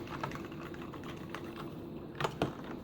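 Computer keyboard keys being brushed and pressed during cleaning, a steady close run of soft clicks and rustles with two sharper, louder taps near the end.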